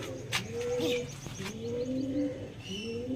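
Punjabi pigeon cooing close by, several soft drawn-out coos in sequence with faint chirps and clicks over a low background hum.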